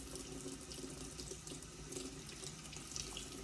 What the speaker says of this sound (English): Let water run through there.